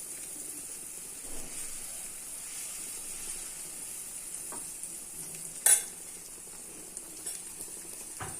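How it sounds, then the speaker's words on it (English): Banana pancake batter sizzles softly in a pan greased with butter or ghee over a low flame, a quiet continuous hiss with light scraping and one sharp clink partway through. "Now scoop in your pancake batter 1 spoon at a time."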